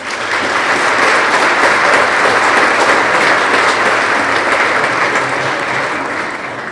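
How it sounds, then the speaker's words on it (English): Steady, loud applause fills a high school winter sports awards ceremony as the crowd honors its 4.0 students, a dense unbroken wash of clapping with no talk over it. "Give them a round of applause."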